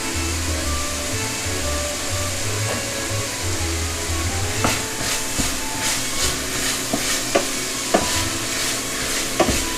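Italian sausage browns in a frying pan while a utensil breaks it into small chunks, giving a steady close sizzle with a string of sharp scraping clicks from about midway.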